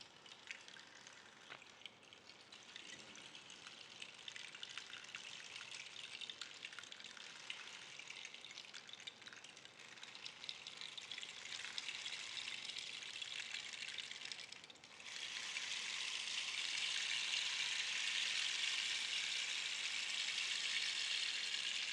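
A rain stick pours out a soft, continuous hiss of rattling beads that imitates falling rain, quiet and steady, then growing denser and louder partway through, with no talking.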